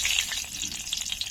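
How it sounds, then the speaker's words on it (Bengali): Two dried red chillies are dropped into hot oil as a tempering, a short burst of bright, dense sizzling close to the pan. "ফোড়নে দেব 2টো শুকনো লঙ্কা,"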